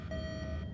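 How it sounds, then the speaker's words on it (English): Vent alarm in a FNAF fan video game, a steady electronic tone sounding for about half a second over low background hum, fairly quiet and with no talk. "That's the alarm, right?"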